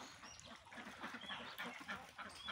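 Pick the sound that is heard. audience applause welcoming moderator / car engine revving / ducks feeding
ducks feeding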